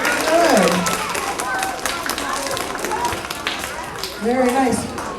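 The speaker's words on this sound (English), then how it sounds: "Give Lydia and yourselves a big round of applause." A group of students claps for a classmate named Lydia during a classroom lesson on echolocation, giving steady applause with some voices speaking over it.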